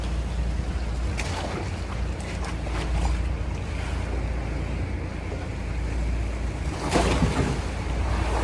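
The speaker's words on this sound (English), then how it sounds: "So we just arrived at the dive site, and these are the waves." Steady rushing of big ocean waves and wind at a dive site in Panglao, Bohol, Philippines, a continuous broadband wash with a louder surge near the end, no voices.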